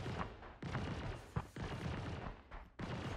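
Turret gunfire in the Star Citizen space game, a dense, continuous barrage of shots and booms with short breaks, loud and close throughout.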